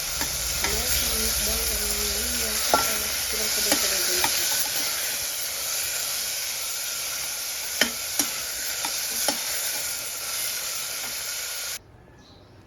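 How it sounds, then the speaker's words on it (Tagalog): Onions fry in a pan for sweet and sour tilapia, giving a steady, close sizzle with occasional stirring clinks and scrapes. The sizzle continues for most of the clip, then cuts off abruptly near the end. "Ngayon, lagyan ko na yung mga sibuyas"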